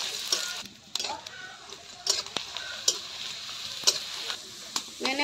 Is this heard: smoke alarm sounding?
no